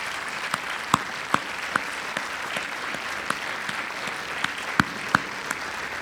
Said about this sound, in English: let's have a big hand for our volunteers, too, please